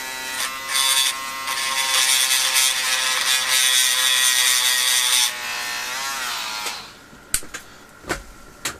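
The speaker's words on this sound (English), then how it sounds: "use my little Dremel tool, and I've roughed up the surface" A small Dremel rotary tool whines at high speed while roughing up a metal surface, buzzing steadily and loudly for about five seconds before winding down, followed by a few light clicks and taps.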